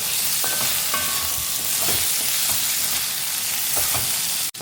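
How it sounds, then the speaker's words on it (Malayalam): Chopped okra sizzles and fries in a pan while being stirred, a steady close hiss with scattered scraping and clinking of the spoon against the pan, no voices. "ഇതിൽ നിന്ന് നന്നായിട്ട് ഇളക്കി കൊടുത്തുകൊണ്ട് നമുക്കിതിനെ ഒന്ന് ഫ്രൈ ചെയ്തെടുക്കാം"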